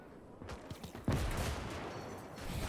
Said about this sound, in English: rifle fire.